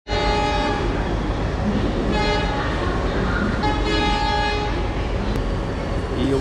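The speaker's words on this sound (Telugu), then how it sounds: "Kachipuda to Nagpur Intercity Express is coming on platform number 4" Kacheguda–Narkher Intercity Express 17641 pulls into platform 4 of a station. Loud, sustained horn blasts sound in repeated bursts over a constant rumble of rail cars.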